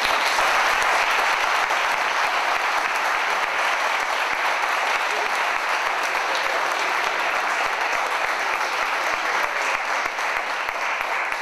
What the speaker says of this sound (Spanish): un aplauso para recibir el...